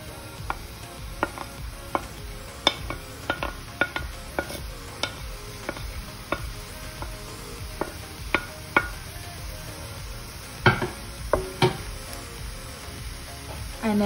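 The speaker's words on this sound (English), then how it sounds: "So we're going to add in our chopped onions." Chopped onions hitting a hot pan for squid masala, a light sizzle under scattered sharp clicks and utensil taps, fairly close, with a faint high whine in the background and no talk.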